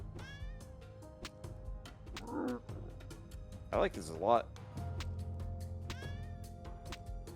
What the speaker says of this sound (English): I'm just hearing sad cat noises